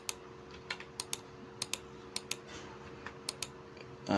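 Letter keys on a computer keyboard are pressed one at a time, a dozen or so crisp, close clicks at an uneven, deliberate pace over quiet background hum.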